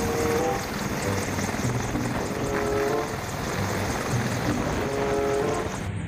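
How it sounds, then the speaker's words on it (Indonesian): A black toy RC combat helicopter's rotor chops steadily with a whining motor hum, continuous and fairly close, with no voices. "ini helikopter tempur teman-teman"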